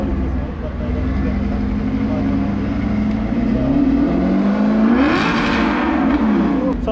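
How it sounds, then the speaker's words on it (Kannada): A luxury car's V8 engine revs inside a used-car showroom in Bengaluru, its loud exhaust note climbing and swelling over several seconds before easing off, with voices faintly underneath. "ಇದು V8 ಇಂಜಿನ್ ಇದು."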